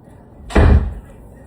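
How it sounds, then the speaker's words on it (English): A bedroom door slams shut once at home, a single loud, close thud that cuts in suddenly and then fades, with no talking over it. "She slams my bedroom door."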